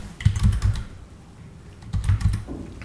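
Typing Arduino C/C++ motor-control code on a computer keyboard: two bursts of quick key clicks, near and moderately loud, separated by a brief quiet pause.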